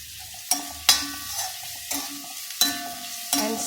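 Curry leaves sautéing in a pan for Chettinad brinjal thokku, with a steady sizzle broken by five or six sharp scraping stirs spaced about a second apart, close and fairly loud.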